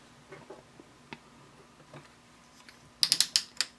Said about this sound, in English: So I'm just going to sew, and the cording will be a little bit loose.